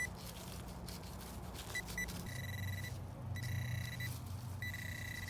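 A metal detector gives repeated high, thin tones in short bursts as it sweeps over a buried target, faint over a low engine-like rumble from nearby machinery.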